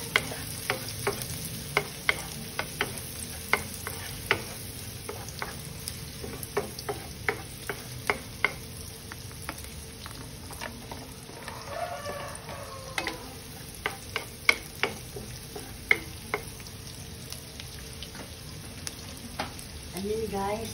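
Chilies and spring onions sauté in a pan with a soft steady sizzle, broken by regular sharp clicks of a utensil stirring and tapping against the pan.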